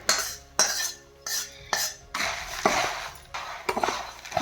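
A metal spatula scrapes and clinks against a wok in repeated strokes, with dry crisp puffed rice rustling between them as Kolhapuri bhadang is mixed, close and fairly loud.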